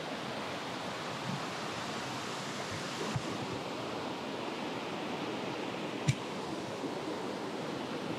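Steady roar of a waterfall on a mountain stream in the Hita area of Oita, heard from just above the falls, broadband and constant with no talk, one brief knock partway through.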